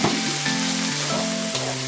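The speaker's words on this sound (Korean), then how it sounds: "썰어놓은 거 또 이제 볶아줍니다" Chopped vegetables and chili powder for mapo tofu sizzle steadily in a hot pan over high heat, a continuous close frying hiss.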